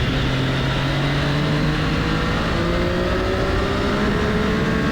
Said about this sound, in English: You can kind of hear the bike.